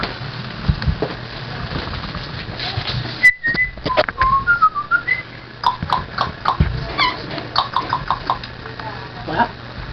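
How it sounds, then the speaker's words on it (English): A man whistles a few short tonal calls to a dog in a home setting, brief rising and falling notes amid soft rustling and knocks, with people talking quietly before and after. "Whistle again"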